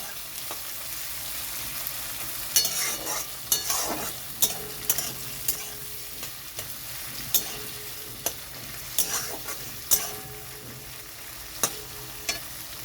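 Prawns frying with onions in a pan make a continuous close sizzle, broken by sharp, repeated clicks and scrapes of a spatula stirring against the pan; no talking.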